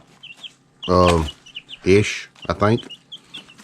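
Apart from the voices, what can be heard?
week-old chicks chirping in a coop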